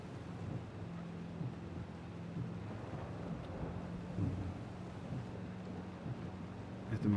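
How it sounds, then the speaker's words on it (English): Rain and thunder in the racing game Forza Horizon 5 while driving, a steady low rumble and hiss that runs throughout, with a few swells and a louder burst at the end. "It's okay if the rain cuts in and out"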